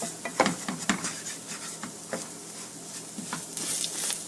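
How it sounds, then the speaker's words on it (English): A spoon stirring onions and a flour roux in a pan for a butternut squash gratin, soft scraping and patting strokes at an irregular pace with light sizzling underneath. "You can just sort of stir it all in nicely."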